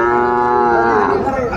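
A Sahiwal bull calf moos in one loud, sustained call lasting the whole moment, close to the listener with no talk over it.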